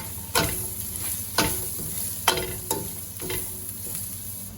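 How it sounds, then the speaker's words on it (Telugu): Ginger garlic paste and coriander powder stirred in a frying pan for a tomato cashew curry: a continuous sizzle with about five distinct spoon strokes scraping and knocking at a slow, even pace. "ఇప్పుడు వేసుకొని ఇది బాగా తిప్పుకొని కలబెట్టేసుకోవాలి."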